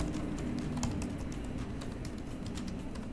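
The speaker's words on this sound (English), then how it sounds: "The key travel is satisfying, and so is the sound it produces." Rapid, steady keystrokes on the backlit keyboard of a 2021 Apple MacBook Pro, its non-butterfly keys giving soft, close clicks over a faint room hiss, with no talking.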